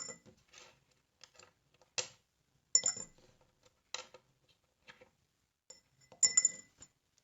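Coins dropped into a glass container, a handful of separate sharp metallic clinks and rattles spaced out irregularly, each brief and fairly close, with quiet gaps between.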